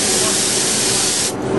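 Adhesive activator is sprayed in a loud, close, continuous hiss from a spray can, broadband and steady before cutting off sharply near the end.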